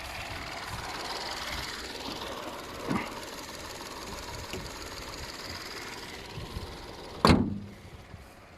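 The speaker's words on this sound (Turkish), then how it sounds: "şu kaputu kapatayım da öyle göstereyim ya" A single solid slam as the hood of a new Opel Corsa F is shut, sharp and close, standing out after several seconds of quiet ambient noise and faint clicks.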